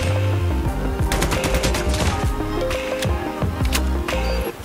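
Sustained automatic fire from an M4 rifle in the mobile shooter Call of Duty Mobile: loud, dense, rapid bursts of shots, with a steady tonal game backdrop underneath, continuing for the whole stretch without a break.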